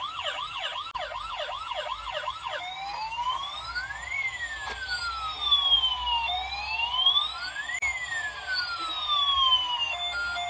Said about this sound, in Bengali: লাইটওয়ালা মিউজিকওয়ালা একটি সুন্দর অ্যাম্বুলেন্স পেয়ে গেছি।